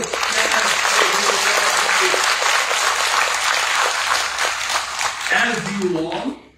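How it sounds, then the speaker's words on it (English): Large audience applauding at a graduation convocation, dense sustained clapping that stays loud for several seconds before tapering off, with a voice speaking briefly near the end. "Let's have a huge round of applause."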